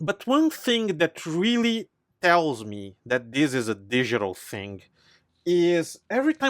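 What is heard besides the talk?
No distinct noise like a dog, phone or traffic.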